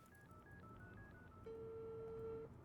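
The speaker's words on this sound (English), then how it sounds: "Phone call." Phone ringing during a crime-solving video game: a quick series of short dial-like tones, then one long steady ring tone, faint and alone with no talk.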